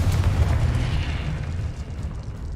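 A Confringo fire-blast spell explodes in the video game Hogwarts Legacy, giving a loud, deep, rumbling burst that slowly fades out.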